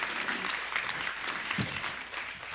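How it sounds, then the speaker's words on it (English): A summit audience applauds its speakers, a sustained, moderately loud wash of clapping with a few sharper individual claps standing out and no clear talk over it. "a round of applause for our amazing speakers today"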